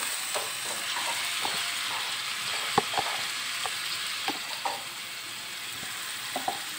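Minced meat (keema) frying in a pan for kachori filling, a steady close sizzle with occasional soft stirring clicks throughout.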